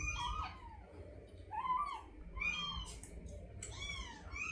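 Rescued kitten meowing repeatedly, several rising-and-falling high mews in a row, close and fairly clear over a low background rumble.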